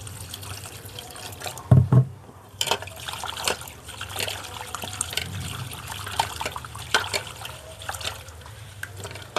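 Leaves being washed again by hand in water: quiet trickling and light splashing with scattered small drips and a couple of louder sloshes early on, close and fairly soft, with no talk.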